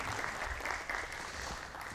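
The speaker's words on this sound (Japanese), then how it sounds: "拍手お願いします。" An audience at a wind band clinic applauds the model wind symphony, a steady wash of many hands clapping, moderately loud and continuous for the whole two seconds.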